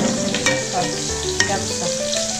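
Garlic and onions fry in a pan, a loud, continuous close-up sizzle with occasional soft scrapes of stirring and no voices over it.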